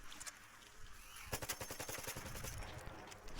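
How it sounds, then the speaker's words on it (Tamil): Rapid bursts of gunfire from another player in ARC Raiders crack out in a fast automatic rattle, loud and dense for a couple of seconds. "அடடா எவனோ சுடுறான்"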